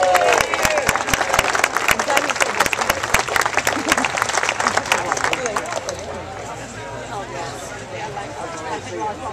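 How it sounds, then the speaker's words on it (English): Crowd at an outdoor county fair frog jumping contest applauding presenters, dense sustained clapping for about six seconds that fades into crowd murmur. "So give one more round of applause."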